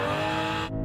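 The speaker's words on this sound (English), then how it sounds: "Nick, rev up your car." BMW 3 Series Touring car engine revving hard in a short burst, a loud, tonal, rising mechanical roar from close by that cuts off abruptly at the end.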